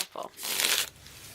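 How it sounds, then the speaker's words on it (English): Tarot cards shuffled in a brief riffling burst, a short crisp flutter of cards near the microphone, with a faint voice in the background. "One more shuffle."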